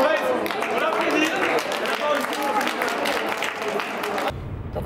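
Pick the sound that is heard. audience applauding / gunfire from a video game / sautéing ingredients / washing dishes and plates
audience applauding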